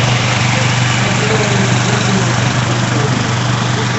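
A generator engine running as a mini power station drones loud and steady at close range, a continuous low rumble with no break and no talk.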